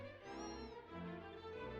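A cat meows in the Dragon Quest X video game, one short, clear meow that rises and falls, heard with no talking.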